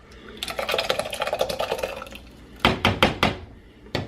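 Hot vegetables tipped back into a pot of broth, a run of soft clinking and splashing for about two seconds, then a few louder distinct clanks of utensil on pot, close and without talk.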